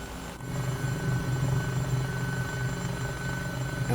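Simulated Eurocopter EC-135 helicopter in flight from Microsoft Flight Simulator 2020, a constant loud rotor thrum and engine whine that swells after a short dip near the start and holds steady throughout.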